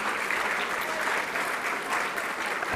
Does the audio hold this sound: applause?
yes